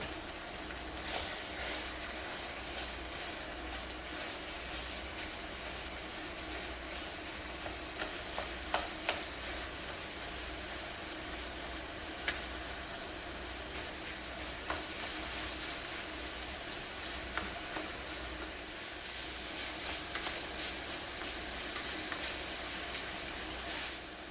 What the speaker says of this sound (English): But I'm getting ready to add this sausage in here, just like so.